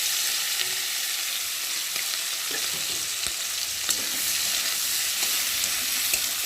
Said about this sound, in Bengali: এখন কেটে রাখা চিংড়ি মাছগুলোকে দিয়ে ভালো করে তেলের মধ্যে ভেজে নেব